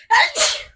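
A single sharp sneeze bursts out close to the microphone in two quick phases, loud against an otherwise quiet indoor podcast setting.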